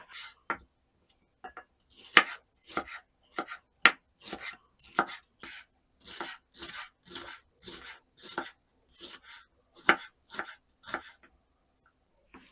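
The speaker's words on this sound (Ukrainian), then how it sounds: "я взяла солодкий перець помаранчевого кольору. Його теж наріжу смужками." A knife chops a sweet orange bell pepper into strips on a cutting board in a steady series of crisp, close strokes, with brief pauses between runs of cuts.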